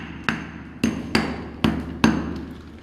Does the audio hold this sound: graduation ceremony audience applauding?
no